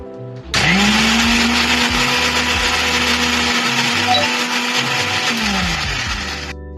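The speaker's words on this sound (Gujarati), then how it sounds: "હવે આપણે આ મિક્સર જારની અંદર આ ગ્રાઇન્ડ કરી નાખવાનું છે." Electric mixer grinder blending avocado milkshake in a jar: the motor starts abruptly, spins up to a steady loud whine with churning liquid, then slows as it is switched off near the end.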